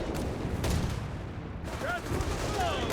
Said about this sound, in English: Got assault grenades, explosions, we got death, we got big booms all over the place.